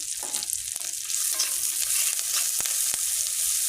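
Potato curry with chopped tomato frying in a pan while being stirred, a loud hissing sizzle with sharp utensil clicks and scrapes scattered through, no voices.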